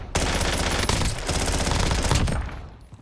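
Rapid, dense burst of PPSh submachine gun fire in Warzone, a continuous loud rattle lasting nearly the whole moment before tailing off.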